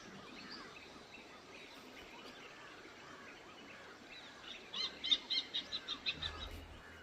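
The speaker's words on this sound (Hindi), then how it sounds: "हॉर्नबिल की आवाज़ बहुत आ रही है चारों तरफ से।" Hornbills and other birds calling in a forest in tiger territory at evening: a faint, diffuse wash of distant bird calls, then a rising series of about eight rhythmic, louder calls near the end, with no talking.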